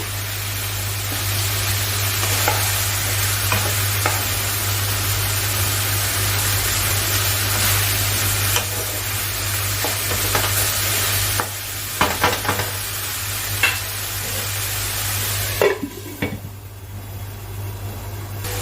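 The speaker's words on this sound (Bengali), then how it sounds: "এবার এই মশলাটাকে আমি ভালো করে ভাজা করে নেব" A paste of onion, garlic and ginger fries with tomato in a pan for a Bengali potol chingri curry, giving a constant close sizzle under a steady hum. Spoon scrapes and clinks come through near the end.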